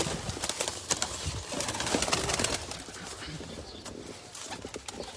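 Teddy pigeons shown for sale coo softly amid wing flaps and scattered clicks and rustling, close by, with faint voices in the background.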